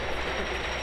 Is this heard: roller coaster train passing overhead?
yes